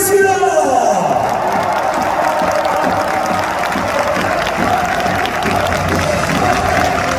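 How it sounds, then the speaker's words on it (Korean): Stadium crowd at a football player's retirement ceremony for Daegu FC, broad roaring applause and cheering spread across the stands, steady and loud with a distant echoing quality, a tone or announcement fading at the start. "우리의 마음속에 영원히 기억될 태양의 아들 이건호 선수를 위해 아낌는 박수와 함성을 부탁드립니다."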